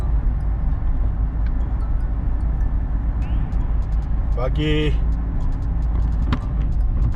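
A car driving on a foggy highway, heard from inside the cabin as a steady low road rumble and engine hum, with someone talking over it and a brief squeaking or rattling sound partway through.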